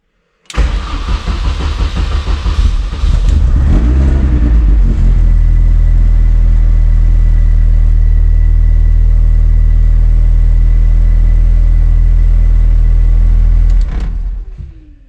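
A race car engine cranks and catches with a sharp start, briefly revs, then settles into a loud, steady, deep idle nearby for about ten seconds before cutting off.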